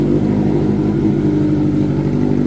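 A Kawasaki ZX14R sport motorcycle engine with dual exhaust idles and revs with a rapid, throaty pulsing exhaust note, close and loud, steady for the whole stretch.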